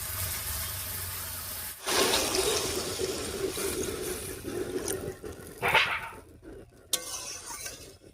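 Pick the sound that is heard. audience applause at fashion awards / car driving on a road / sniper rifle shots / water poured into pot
water poured into pot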